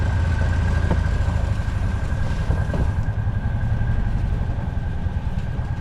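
An old steam engine owned by the Ozark Steam Engine Association runs at a steam show, giving a steady low rumble with faint mechanical thumps and a thin constant whine.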